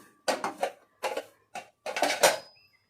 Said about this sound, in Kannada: ಬುಟ್ಟಿಗೆ ಪಾತ್ರೆಗಳನ್ನೆಲ್ಲ ಹಾಕ್ಕೊಳ್ತಾ ಇದ್ದೀನಿ